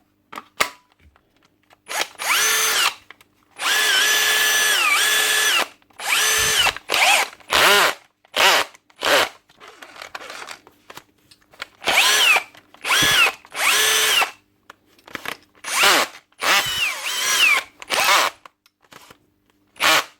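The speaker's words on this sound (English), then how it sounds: "a Hikoki drill for repair" A Hikoki DV18DBFL2 cordless drill with a slipping clutch whirs in repeated bursts, some short and some held for a couple of seconds, stopping and starting close up with quiet gaps between.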